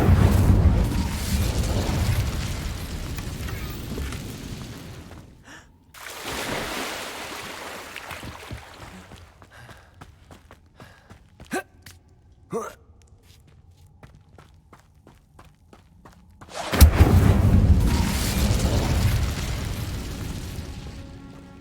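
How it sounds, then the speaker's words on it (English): The Incendio fire spell in Hogwarts Legacy gameplay, bursts of roaring flame that cut off abruptly, separated by quieter stretches with footsteps and small clicks, then a final loud whoosh. "Incendio."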